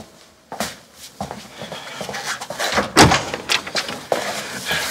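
A door opens indoors in a busy home, a loud knock-like thud near the three-second mark standing out among shuffling and movement sounds, with no clear talk over it.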